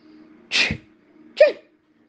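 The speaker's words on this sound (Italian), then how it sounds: "Qualcuno urlava e starnutiva" Two sneezes a moment apart, loud and close, each a sharp breathy burst with a short voiced tail, set against a quiet background with a low steady hum.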